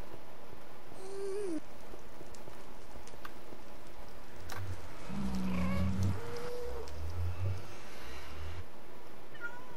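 Minecraft cat in a Nether fortress area of a game server, meowing several times in short, clear cries over a faint ticking and low background patter.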